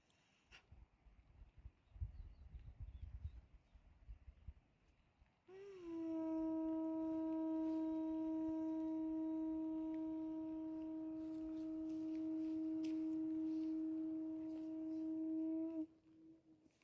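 A conch shell blown high in the Himalayan mountains near Roopkund lake: after faint rustling, one long, loud, steady horn-like blast rings out for about ten seconds, then cuts off abruptly.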